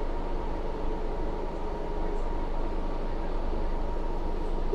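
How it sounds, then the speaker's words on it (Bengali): A train passing on the Jammu to Srinagar line, heard from a stationary train as a steady, loud, even rumble and rolling hum that holds throughout with no voices. "এই যে আমার মনে হচ্ছে এই ট্রেনটা আসার জন্যই আমাদের এই ট্রেন এতক্ষণ দাঁড়িয়েছিল"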